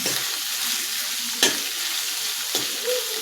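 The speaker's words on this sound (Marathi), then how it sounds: "आता हे आपण दोन ते तीन मिनिट कमी गॅसवरती चांगलं परतून घेऊया" Curry leaves sautéed over low heat for a finger millet soup, a steady close sizzle of oil with a couple of sharper spoon scrapes against the pan.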